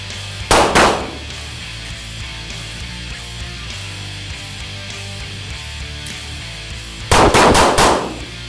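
Handgun shots fired during a one-handed reload drill, with the pistol held between the legs to reload: a loud single shot, a long pause for the reload, then a rapid burst of three or four shots.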